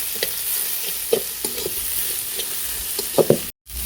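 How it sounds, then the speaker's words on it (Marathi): Onions roasting with turmeric and salt in a pan on a wood-fired stove, a steady close sizzle broken by scattered stirring scrapes that grow busier near the end before a short dropout. "पटकन भाजण्यासाठी थोडीशी हळद थोडंसं मीठ त्यामुळे कांदा पटकन भाजतो"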